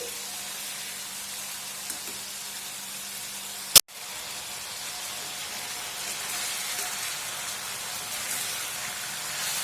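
Garlic chicken pieces frying in an oily pan give a steady, close sizzle with fine crackling, broken once by a brief sharp knock partway through; no one speaks.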